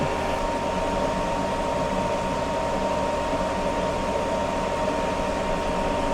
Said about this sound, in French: Étape 2, le ventilateur souffle